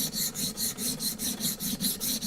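Block plane sole (Rider No. 69 1/2) rubbed back and forth on coarse 80-grit abrasive, a steady rasping scrape repeating about every quarter second in even strokes, close and moderately loud with no talk.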